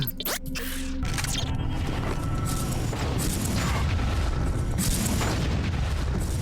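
A machine blows apart in Deus Ex Invisible War with a loud boom, followed by a long, heavy roaring rumble of debris and fire that stays strong to the end.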